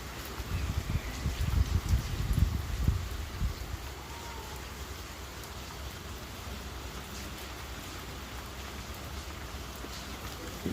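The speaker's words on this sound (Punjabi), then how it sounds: "ਕਿ ਦੇਖ ਕੇ ਥੋੜਾ ਸਕੂਨ ਜਿਹਾ ਮਿਲਦਾ ਵੀ ਮੀਂਹ ਪੈ ਰਿਹਾ" Rain falls in Bathinda as a steady, moderate hiss with low rumbling at the start and a constant wash throughout.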